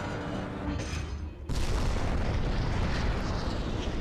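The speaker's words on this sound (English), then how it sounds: "Missiles are flying towards Vector City." Missiles launch at a missile base in the video game Killzone. A quieter rumble breaks into a sudden loud roaring blast that keeps thundering steadily for several seconds.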